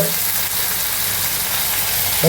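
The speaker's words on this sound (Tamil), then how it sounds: "அதையும் வெங்காயம் பூண்டோடு சேர்த்து வதக்கிடுங்க" Steady sizzling of onion and garlic sautéing in hot oil in a pan, an even hiss close by with no breaks.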